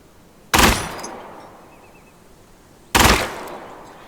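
Two loud, sharp bursts of fully automatic gunfire from a weapon in Gunsmith Simulator, about two and a half seconds apart, each cracking up suddenly and then ringing off in a fading tail, with no talking.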